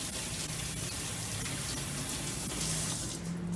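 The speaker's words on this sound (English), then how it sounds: "wash our hands thoroughly, making sure to get in between the fingers, up over the wrists, rinsing thoroughly" Running tap water pours steadily into a sink while hands are washed beneath it, rinsing thoroughly between fingers and over the wrists; a continuous close gush with no talk.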